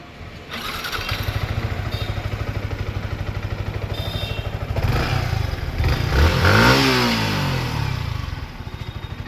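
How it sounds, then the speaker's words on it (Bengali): A motorcycle engine idles with a fast, steady throb, then revs up loud and close in a rising and falling burst before settling back to idle, with no talk over it. "তো ভাই বলতেছি আমার বাইকের নাকি একটু আওয়াজটা শুনবে"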